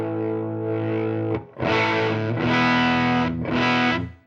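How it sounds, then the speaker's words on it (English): Distorted electric guitar with a humbucker-equipped 335, played through a handwired Deluxe Amplification Ryman amp: a sustained chord rings for over a second, then three more strummed chords follow with brief gaps, loud and up close. "try another snippet with this amp with a cool humbucker 335 to hear the tone difference"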